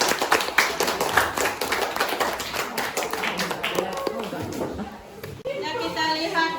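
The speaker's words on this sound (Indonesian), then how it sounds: "Nah, kasih aplaus." A classroom of students gives applause, a patter of clapping and tapping that fades after several seconds, followed by a teacher speaking.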